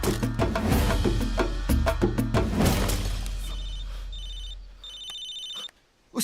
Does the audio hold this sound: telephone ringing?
yes